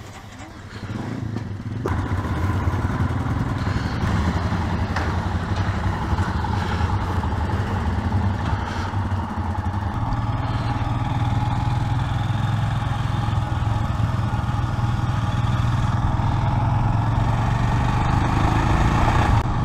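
A group of seven Royal Enfield motorcycles rumbles into motion and rides off, steady engine drone building in loudness as the bikes pull away together, heard close from among the group.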